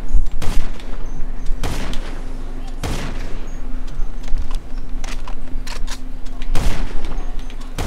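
Rapid bursts of gunfire from a Los Santos shootout in the video game GTA, several loud broadband volleys spaced through the clip over a steady game background, with a voice talking at times.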